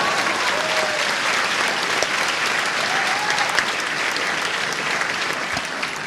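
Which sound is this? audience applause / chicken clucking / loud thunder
audience applause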